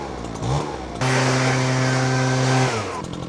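A brand-new handheld 220 MPH leaf blower's small two-stroke engine catches and roars at a steady high buzzing pitch for about two seconds, close and loud, then winds back down to idle.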